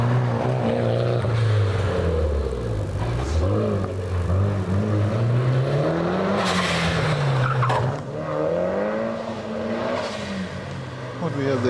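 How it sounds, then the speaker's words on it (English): A Porsche Turbo race car at a hillclimb event engine roars continuously and loudly, pitch rising and falling through gear changes with tire squeal, while a commentator talks over it. "Wayne Fitzpatrick up there now with Mike Holland's Porsche Turbo coming up behind him"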